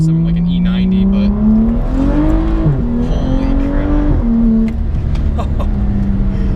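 A tuned 2011 BMW 135i with a turbocharged engine making about 350 wheel horsepower gives a smooth, loud, sustained roar from close by. The pitch climbs and dips with the revs, and a voice can be heard faintly alongside.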